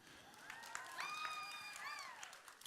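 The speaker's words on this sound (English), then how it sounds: "Round of applause for the baby" Light audience applause at an anime convention panel, a faint patter of clapping behind a high, wavering voice that rings out in the middle.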